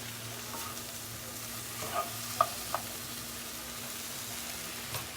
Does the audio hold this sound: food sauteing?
yes